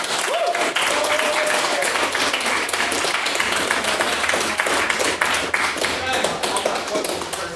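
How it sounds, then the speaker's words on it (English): Applause fills a debating house, with a roomful of clapping hands and table-tapping-like knocks, dense and lively throughout, with some murmured voices and shuffling underneath. "can I please ask the House to give him a large round of applause?"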